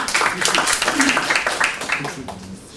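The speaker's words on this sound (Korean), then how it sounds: "큰 박수로 환영해 주시기 바랍니다" A seminar audience applauds in a dense, steady patter of many hands, welcoming a presenter to a forum on urban regeneration and using old-downtown spaces for arts and culture. The clapping fades slightly toward the end.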